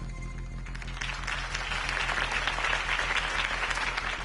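Dense applause from a large video game crowd, steady and loud throughout, with a faint murmur underneath.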